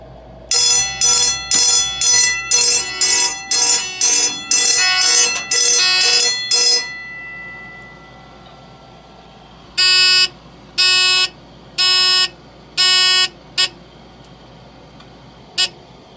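A Simplex 4005 fire alarm system sounds during a duct detector test: a rapid ringing bell-like burst for several seconds, then a slower pattern of loud, evenly spaced horn pulses, each about half a second long.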